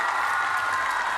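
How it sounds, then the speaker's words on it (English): Home crowd at the Koper World Challenge Cup gymnastics competition cheering and applauding, a steady loud wash of claps and voices with no break. "We are hearing a cheer from the audience"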